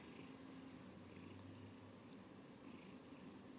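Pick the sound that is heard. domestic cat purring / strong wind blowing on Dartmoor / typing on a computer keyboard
domestic cat purring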